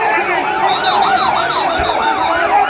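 A fire service vehicle siren wails at a market fire, loud and close, its pitch sweeping up and down in repeated quick cycles over a low background rumble.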